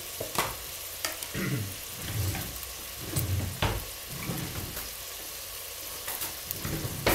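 Onions and carrots frying in oil for a leek dish, a constant crackling sizzle with the scrape and knock of a spoon stirring the pan every second or so.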